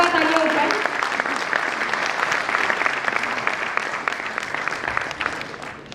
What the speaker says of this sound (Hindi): तो उनके लिए एक बार जोरदार तालियां हो जाए।